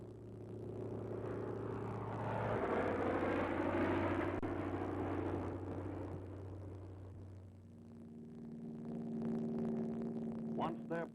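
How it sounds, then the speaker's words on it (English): Light propeller-driven spotter aircraft, American Piper Cubs, drone steadily overhead with a sustained engine hum that swells and fades across the clip amid low wartime rumble, with no talk. "American Cub planes again proved invaluable in spotting enemy strong points."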